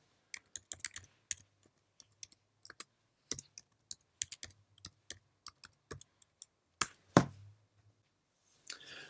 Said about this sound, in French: on va pouvoir taper ici les termes de la recherche